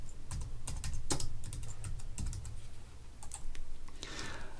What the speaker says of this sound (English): I'm going to use a keyboard shortcut of Ctrl and J